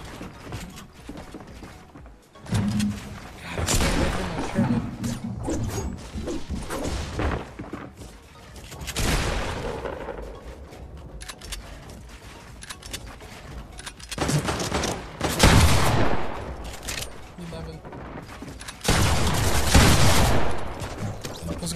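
Gunfire rattles through a Fortnite match in several loud bursts of rapid shots separated by quieter gaps, along with mechanical clicks and creaks from weapon handling.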